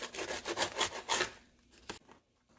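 A knife saws back and forth through a folded breakfast quesadilla made with leftover chicken tacos, giving several quick rasping strokes close by, then a lighter cut or two before it goes quiet.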